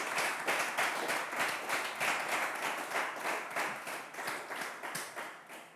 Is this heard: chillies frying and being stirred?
no